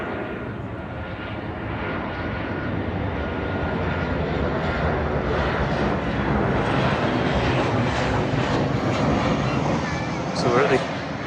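Jet2 passenger jet aircraft passing near the end of a runway, a steady broadband engine roar that swells slowly and holds loud throughout.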